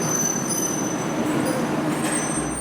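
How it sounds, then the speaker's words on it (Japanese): A retro-style Manyosen tram pulls into the station at Takaoka, a steady rumbling roll with faint high wheel squeal running throughout at a constant loudness, no voices. "だいぶレトロな感じの電車が来ました。"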